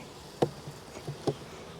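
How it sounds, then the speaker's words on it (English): Honey bees at a nuc hive, with a faint low hum and two brief louder buzzes as bees pass close, no talk. "We got nice amount of bees on the top."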